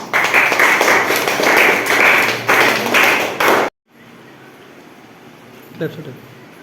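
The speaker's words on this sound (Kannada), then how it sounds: "ಚಪ್ಪಾಳೆ." Applause at a school farewell: a burst of dense clapping from a crowd for about four seconds, then an abrupt cut to quiet room tone with a faint thud.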